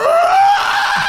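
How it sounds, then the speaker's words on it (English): Strong wind whistles through a window seal at night, a loud, high, steady tone that rises slightly and holds, close and alone, like a scream. "the wind is so powerful that it breaks through the seal and causes this whistling"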